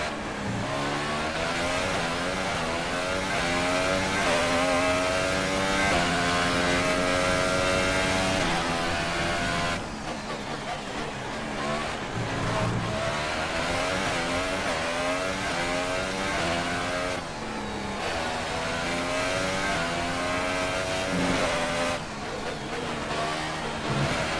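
Race car engines scream through the Monaco street circuit in the F1 2018 video game, a loud, continuous high-revving whine with repeated gear shifts and rising and falling pitch sweeps, closely miked and with no talk.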